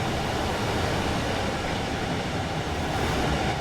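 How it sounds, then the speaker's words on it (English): A freight train rumbles over the Dartford Bridge, a steady broadband roar and rattle of wagons heard from a passing Southeastern Class 395 high-speed train, continuous and loud throughout with no talk. "there was a freight train just passed over"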